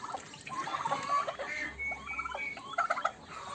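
A rooster and a turkey fight in a ring, with gobbling and fowl squawks over scuffling, fairly close and moderately loud in short bursts.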